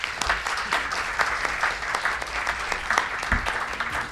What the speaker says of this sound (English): I would like to invite you for a round of applause to the panelists